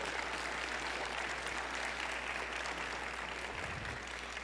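A conference audience applauds a speaker's friend and teacher in steady, dense applause that holds at an even level throughout, somewhat distant and uniform, with no voices over it.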